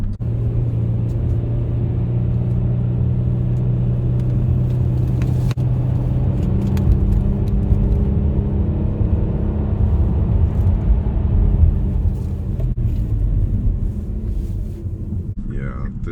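Kia sports sedan, a K5 GT or Stinger GT, heard from inside while driving and reversing, with a steady deep engine rumble and road drone throughout and occasional clicks, while people talk over it.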